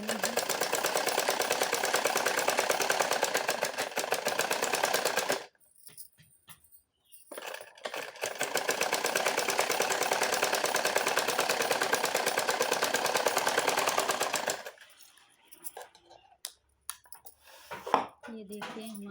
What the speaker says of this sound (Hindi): कपड़े को इस प्रकार करते सिलाई लगा देनी है